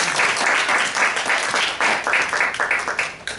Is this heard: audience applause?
yes